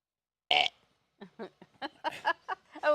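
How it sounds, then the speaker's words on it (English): A single loud, close burp erupts from a person, then speech follows in a quieter, choppy stretch. "Burp."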